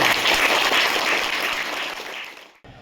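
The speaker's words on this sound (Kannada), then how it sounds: "ಅವರಿಗೆ ಜೋರಾಗಿ ಚಪ್ಪಾಳೆಯ ಮುಖಾಂತರ ಅಭಿನಂದನೆ" Loud, dense applause from a school gathering honouring a donation of furniture to a government school, sustained crowd clapping close by that thins and cuts off near the end.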